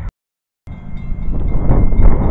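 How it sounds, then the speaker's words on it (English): A passing train on a railway line, rumbling steadily and growing louder after a brief silent gap, a broad continuous roar with faint rattling close by. "There it goes, another train."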